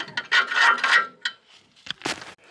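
A ratchet wrench turns 14mm headed cross member screws under an Isuzu Dmax during a clutch replacement, a few bursts of close clicking and metallic rubbing separated by short pauses.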